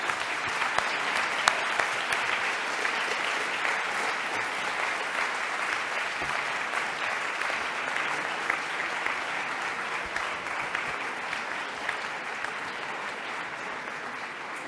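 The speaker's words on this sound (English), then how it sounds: "Let's give them a round of applause to encourage them on their way." A long, sustained round of applause from members of a floor session, many hands clapping in an even continuous wash with occasional sharper claps, steady in level and moderately distant.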